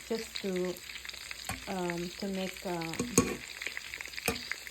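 Ground beef frying in a little oil in a skillet, with a steady loud sizzle and crackle throughout, joined by faint scraping and stirring clatter and a few sharp pops.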